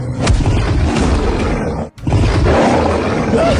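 A demon tiger in an animated fight scene lets out loud, rough roars that fill the whole stretch, broken by a brief silent gap near the middle before the roaring resumes.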